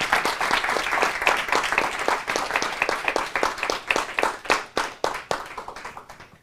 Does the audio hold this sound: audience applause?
yes